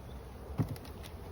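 Honey bees buzzing around an opened hive box, a faint close drone with one brief louder pass as a bee flies near.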